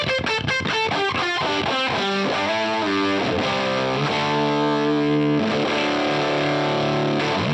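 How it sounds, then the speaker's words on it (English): Electric guitar played through a Dofix Nettuno fuzz pedal: a run of fast picked notes gives way to thick, saturated sustained chords, loud and buzzing throughout with no talk. "now let's engage the fuzz. This is my Nettuno fuzz from Dofix."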